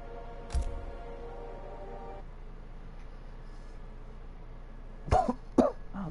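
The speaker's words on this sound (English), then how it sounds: "I've been coughing this whole time." Coughing from a person during a Mortal Kombat II gaming session, one short cough near the start and two louder coughs close together toward the end, over a steady low background hum.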